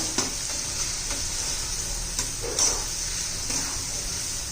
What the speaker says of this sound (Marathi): टोमॅटो पण आपला चांगला परतून झालेला आहे असं मॅश करून घ्यायचं जरा